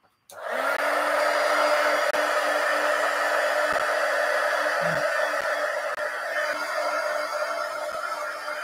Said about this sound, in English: let me hit this with the heat gun a minute